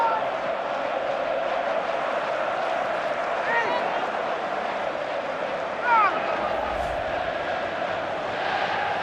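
Stadium crowd in a FIFA 15 Premier League match between Swansea and Hull, a steady roaring swell with a brief lift partway through, under a commentator's voice.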